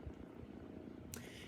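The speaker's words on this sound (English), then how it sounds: "He is purring. I don't know if y'all can hear him, but he is purring." A cat named Merc purrs softly and continuously at close range, a low quiet rumble with a brief higher rustle partway through.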